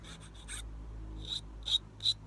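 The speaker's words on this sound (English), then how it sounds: "I'm going to bevel that end down to a point." A file scrapes a tiny silver buckle pin into a bevelled point: a few short, faint rasping strokes, close by and alone.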